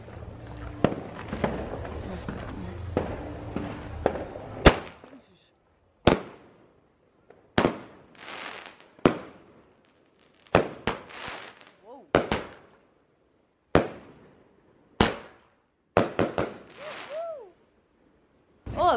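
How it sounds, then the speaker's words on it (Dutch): Fireworks go off on Bonaire in a series of sharp, loud bangs and crackles, spaced irregularly over quiet gaps, with some voices audible in the opening moments. "We gaan nu even vuurwerk afsteken"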